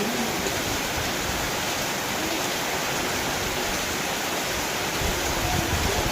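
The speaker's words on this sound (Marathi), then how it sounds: "पाऊस तर डायरेक्ट व्हायला लागलाय पाऊस" Heavy monsoon rain pours over a village in a dense, loud, unbroken roar, like water rushing down, with no voices heard.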